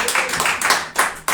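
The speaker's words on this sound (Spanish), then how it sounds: "Dale un fuerte aplauso al Señor" A church congregation claps in a steady, loud applause to praise God during a Spanish-language sermon on the birth of Christ, with rhythmic hand claps filling the space.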